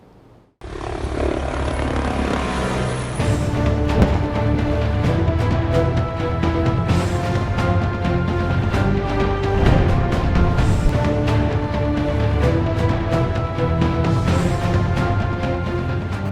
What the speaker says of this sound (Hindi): आसमान जंगी तैयारों की घन गरज और जमीन जदीद टैंकों की नकलो हरकत से लरज उठी।